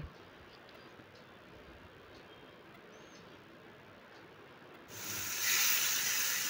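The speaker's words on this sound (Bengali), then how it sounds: "এটা গরম হয়ে গেলে হাই হিটে আমি চিকেনের পিসগুলো দিয়ে দিচ্ছি" Chicken pieces for tandoori chicken dropped into a pan of hot butter and white oil over high heat. A steady low hiss gives way to a sudden, much louder broadband sizzle near the end, close up and with no talking.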